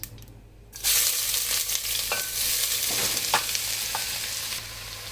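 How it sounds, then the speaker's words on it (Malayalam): Onions drop into hot oil in a pan for a Munnar-style chicken curry, bursting into a loud, steady sizzle after a quiet start, with a few scraping stirs along the way. "ഇനി ഇതിലേക്ക് നമ്മൾ എടുത്തു വെച്ചിട്ടുള്ള ഉള്ളി ഇട്ട് കൊടുക്കാം."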